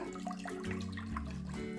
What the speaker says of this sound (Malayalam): അതിലേക്ക് 1 ലിറ്റർ പാൽ ഒഴിച്ചു കൊടുക്കുക.